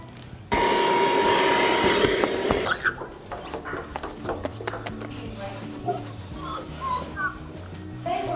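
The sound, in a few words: hand vacuum cleaning a windowsill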